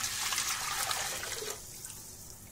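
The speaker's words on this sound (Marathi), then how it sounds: "हे एक भांड पीठ घेतलं तर 1 भांड्यावर मी पाणी टाकतो" Water is poured from a vessel onto ragi (finger millet) flour for papad dough, a close splashing rush that cuts off partway and leaves a quieter trickle.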